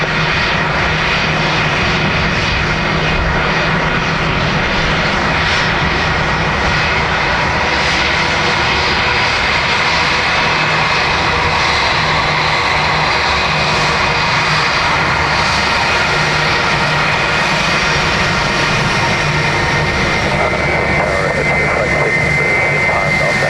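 An airliner landing at Dublin Airport gives a loud, sustained jet engine roar close by, with a steady whine over the rumble throughout and faint voices in the background.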